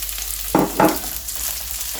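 Garlic and the white part of spring onion sizzle steadily in a pan, with two short louder stirring scrapes partway through and no talking.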